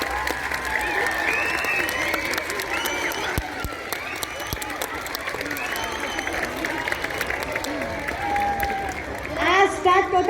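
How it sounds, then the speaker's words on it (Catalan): Applause for the pages visiting a school during a Three Kings celebration, a broad steady clapping from a crowd with children's voices and chatter mixed in, rising slightly at the end. "Un fort aplaudiment pels patges."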